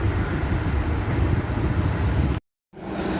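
Italian local train running, heard from inside the carriage: a steady broadband rumble and roar throughout, cutting out abruptly to silence for a moment near the end before the rolling noise resumes.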